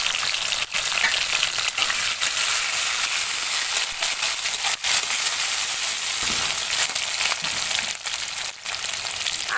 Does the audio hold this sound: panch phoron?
yes